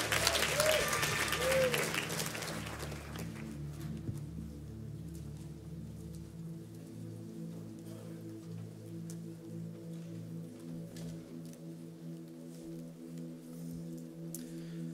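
A church congregation at a Sunday morning service applauds loudly at first, and the clapping fades within about three seconds. A low, steady hum with faint scattered sounds fills the rest.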